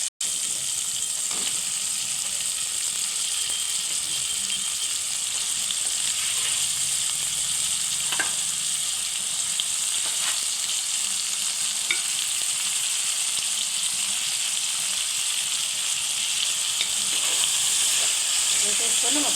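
Mutton pieces frying in a pan with softened tomato, onion and green chili for gongura curry, a steady close sizzle and hiss throughout with occasional stirring scrapes.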